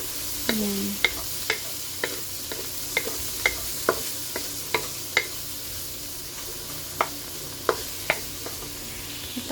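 Tomatoes frying in a hot pan, a constant bright sizzle under a series of regular sharp clacks and scrapes as a utensil stirs against the pan, close and fairly loud, with no voices.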